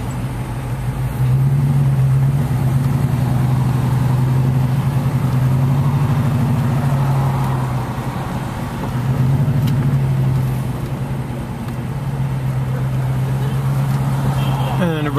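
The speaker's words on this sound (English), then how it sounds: "Traffic by the bus station." Vehicle engines idle in wet-weather traffic beside a bus station in Iguala, Mexico: a close, steady low hum from inside a car that swells and dips slightly throughout.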